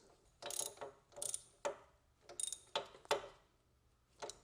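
A ratchet snugging down the caliper hose line bracket bolt on a Porsche during a brake pad and rotor job, heard as close, crisp bursts of clicking in about seven separate strokes with quiet pauses between.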